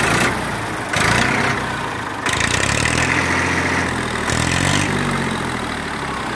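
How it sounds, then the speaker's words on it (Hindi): A 1999 Massey Ferguson 1035 DI diesel tractor engine idles loudly and steadily nearby, its rhythmic low chugging swelling and easing a few times. "क्या गजब आवाज है ट्रैक्टर की।"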